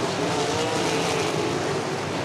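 USAC sprint race cars roar hard on a dirt track at Red Dirt Raceway, a dense, loud, continuous engine blare as the field accelerates onto the back straightaway.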